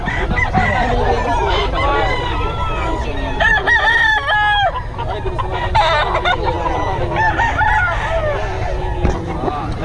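Many roosters crow and cluck continuously, near and far, at a fighting-cock market in Bocaue, a dense overlapping chorus of fowl with people talking underneath.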